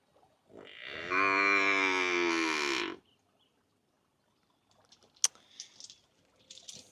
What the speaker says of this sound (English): Yes, we have a cow.